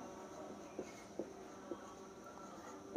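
Pen strokes of handwriting on paper, faint and close, with a few small taps as words are written out in a quiet room.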